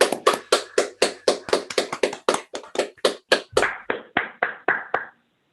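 A single pair of hands claps close to the microphone on an online conference call, about twenty crisp, evenly spaced claps in a steady rhythm that stop abruptly, leaving silence.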